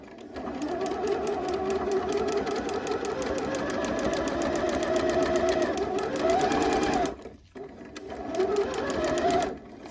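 Sewing machine stitching a seam on a mock neck bell sleeve top, a steady fast whirring run that pauses briefly, then restarts for the back stitch, close and fairly quiet.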